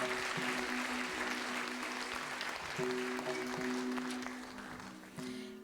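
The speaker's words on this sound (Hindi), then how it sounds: "अमरजीत जी के लिए तालियां तो बनती हैं।" Audience applause at a Bollywood classics concert, steady broad clapping that holds for several seconds with a sustained tone underneath, then thins slightly toward the end.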